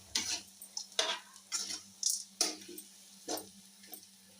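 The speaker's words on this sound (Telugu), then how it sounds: "వేపుతూనే అడుగు పట్టకుండా వేపుతూ ఉండాలి" Chana dal being dry-roasted and stirred in a pan over medium flame, with soft scraping strokes of the stirring spoon at an irregular pace, close and fairly quiet, with faint light sizzling under a steady low hum.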